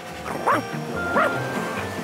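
Cartoon dog barking from a car, two short yipping barks about half a second apart over a steady background hum, fairly close and clear.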